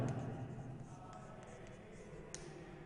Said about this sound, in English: Simply you can write here